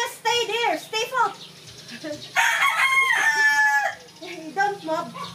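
A white leghorn chicken held for a haircut crows and clucks in a loud, drawn-out call, while a person talks close by before and after it.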